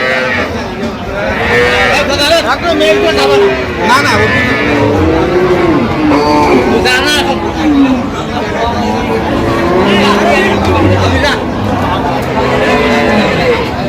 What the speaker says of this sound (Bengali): এখানে বেশ সুন্দর গাভী বাছুর একেবারে হাই কোয়ালিটির